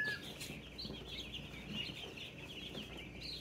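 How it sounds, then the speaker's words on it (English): Baby meat-bird chicks peep in thin, high chirps that repeat and overlap against a quiet background, with no one talking. "Yeah, baby chicken, honey."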